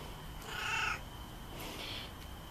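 Cats meowing in a workshop during a McCulloch Pro Mac 610 chainsaw repair, two short separate cries close by, the first louder and more drawn out, over quiet room tone with no talking.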